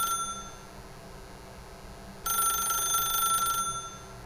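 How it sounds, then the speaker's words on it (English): A telephone rings in the video game The Stanley Parable, one bright electronic trill that starts partway through and cuts off after about a second, set against a quiet room tone. "Ah, the phone!"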